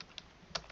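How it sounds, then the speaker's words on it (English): Soft keystrokes on a computer keyboard, a few quiet separate taps at an uneven pace over a low background hum, with no voices. "I'm just using my keyboard."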